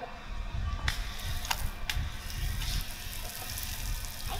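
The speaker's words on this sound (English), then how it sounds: "Now that we've got the mulch down, what is it time to do? Time to water it." Water pours steadily onto mulch around a newly planted tree, a loud continuous gushing splash outdoors with a few sharper spatters.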